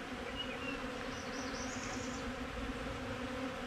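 A loud, steady buzz of honeybees swarms around a hive during a nectar dearth as robbers try to force their way in, with close wingbeats droning continuously throughout.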